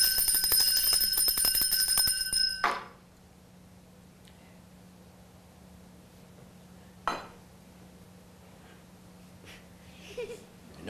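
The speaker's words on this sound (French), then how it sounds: "Ma sonnette ne fait pas assez de bruit." A small hand bell rung in a stage performance of Molière's Le Malade Imaginaire, a loud rapid jangling for about two and a half seconds that stops abruptly, followed by quiet room tone with a couple of brief knocks.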